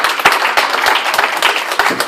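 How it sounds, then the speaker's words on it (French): A church congregation claps and cheers in praise of the Holy Spirit, loud close applause with a steady patter of many hands and brief sharp peaks throughout. "On va acclamer le Saint-Esprit encore."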